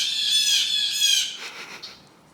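Harsh, drawn-out squawking from a young crow in a residential yard, loud and near for over a second, then fading into a few fainter broken calls.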